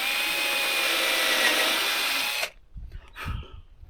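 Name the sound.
power drill pre-drilling cedar bed rail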